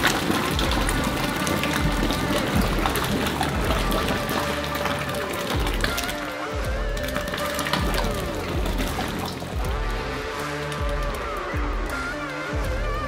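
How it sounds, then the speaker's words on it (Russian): Hot caramel pours into a bathtub of dry mix for a giant 200 kg Picnic bar, making a continuous heavy gushing flow with no talk. "Выливаем ее прямо в ванную с нашей сухой смесью."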